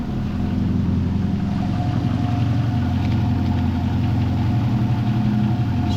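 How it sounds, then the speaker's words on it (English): A Toyota Celica engine idling low and rough, a steady close rumble with a faint uneven stumble running through it, heard alone without voices. "It doesn't seem to be misfiring, it's just kind of stumbling because I think it's idling too low."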